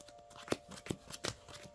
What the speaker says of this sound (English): we'll pile shuffle real quick